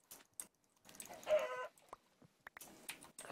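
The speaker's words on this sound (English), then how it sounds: "There's actually a lot of chickens here." Chickens in a video game clucking in short bursts, several calls scattered across the moment with a louder flurry in the middle, close and clear with no talk over them.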